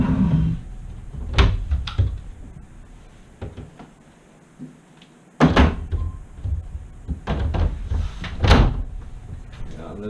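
A closet door is opened in a home, giving a few wooden thumps and knocks spread through the clip, one sharp bump near the middle, with quiet household movement around them.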